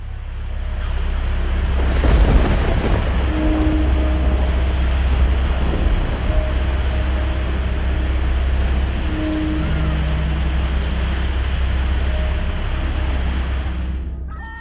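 A violent storm rages at sea around a whaling ship, with a constant roar of wind and crashing waves, broad and loud, swelling and easing over a deep low rumble.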